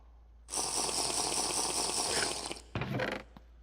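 Drinking water in a modded Minecraft game gives a crunchy, eating-like gulping sound that runs steadily for about two seconds, then breaks off, followed by a brief second burst, with no talk.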